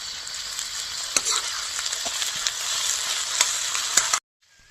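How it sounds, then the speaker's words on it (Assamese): Onions fry with ginger-garlic paste in hot oil for a chicken dish, producing a loud, continuous sizzle with a few sharp stirring clacks, then cutting off abruptly near the end. "পিঁয়াজটো ভালদৰে ভাজি লোৱা হৈ গ'ল। এতিয়া দিম মই আদা নহৰু বটা"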